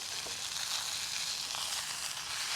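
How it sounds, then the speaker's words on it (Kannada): Fish frying over a wood-fired stove beside a river gives off a steady, close sizzling hiss with faint crackles, with no talking over it. "ಮೀನು ಕಾಯಿಸ್ಲಿಕ್ಕೆ ಇಟ್ಟಿದ್ದೇನೆ"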